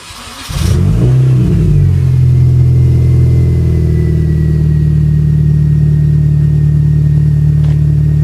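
A Mini Cooper S engine with an aftermarket exhaust fires up with a sharp blip, then settles into a steady, throaty idle with a deep burbling exhaust rumble, loud and close.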